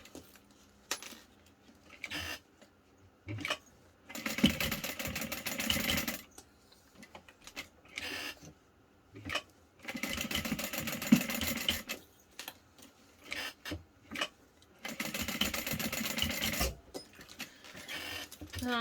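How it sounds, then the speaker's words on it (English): A sewing machine stitches backpack pieces together in three or four sustained whirring runs, separated by pauses filled with small clicks and fabric handling, close and clear with no talking. "Then we are going to stitch these on."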